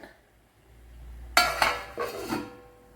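A metal lid set onto a pot of simmering sardine curry, a sharp clank followed by a couple of softer rattling knocks, close and brief, with no talking.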